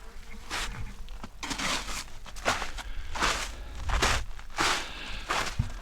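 Honeybees buzz steadily close by at a hive's bottom entrance, a dense hum with individual bees swelling louder as they fly past, accompanied by occasional light crackles.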